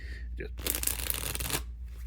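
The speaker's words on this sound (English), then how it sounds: "Riffle shuffle, nice and easy." A Sabacc card deck riffle shuffled, one quick close fluttering burst of cards about a second long, with brief handling sounds before and after.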